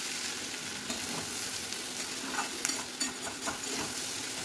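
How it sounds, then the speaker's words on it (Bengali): Hot water added to a pan of figs and prawns frying in oil, a steady close sizzle and crackle with a few scraping stirs, no voices. "গরম জল অ্যাড করব।"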